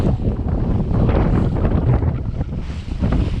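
Strong wind buffeting a sailboat on an ocean passage amid choppy swells, a loud steady rushing roar with gusty surges and mic buffeting, mixed with faint water wash.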